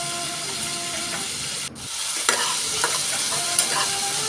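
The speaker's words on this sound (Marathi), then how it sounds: "बारीक गॅसवरती परतून घ्या चांगले" Tomatoes and spices for a bottle gourd curry fry on low heat, a continuous close sizzle and hiss with a brief stirring clatter midway, no talk.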